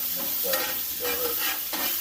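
Chicken and fried rice with rice wine being stirred and scraped on a Blackstone griddle, loud close sizzling with rhythmic spatula strokes every half second or so.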